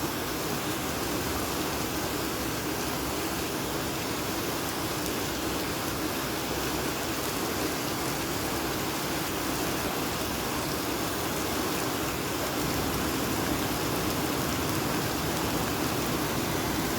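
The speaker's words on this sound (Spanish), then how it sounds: "Dicen que cuando hay muchos truenos que ya se va a calmar la lluvia." Heavy rain pours steadily throughout a thunderstorm, a dense continuous hiss of water at even loudness with no distinct thunderclaps standing out.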